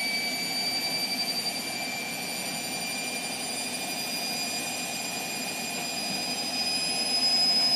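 A Bosch washing machine spinning up to 800 RPM during a rinse of bedding and towels: a steady, loud mechanical whine with a broad rushing drone, swelling slightly toward the end.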